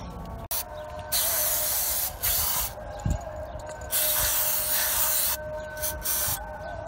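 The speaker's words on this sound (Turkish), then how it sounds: "Bunların hepsini şimdi temizleyeceğiz balata spreyiyle." Brake cleaner sprayed from an aerosol can onto starter motor parts during a repair, giving several loud, close hissing bursts with short pauses between them.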